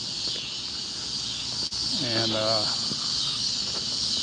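Cicadas in a park in Etowah, Tennessee, keep up a steady high buzzing drone throughout, while someone speaks briefly over it.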